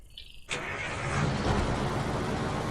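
A car engine in a video game cranks and catches, then settles into a loud, steady running roar close by, with a short electronic tone just before.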